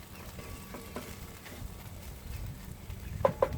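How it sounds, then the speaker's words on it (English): Garlic, chorizo and spring onions fry in a pan outdoors on a windy day, giving a soft steady sizzle with a few light stirring clinks and scrapes near the end. "So we've got the garlic and the chorizo and spring onions here cooking away."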